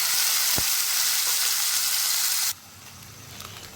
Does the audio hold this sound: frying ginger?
yes